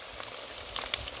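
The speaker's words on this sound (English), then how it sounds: "So now it's time for us to fry. We have some oil in the pan" Beef frying in oil in a pan, a soft, steady sizzle with faint crackles and pops, quiet and heard alone.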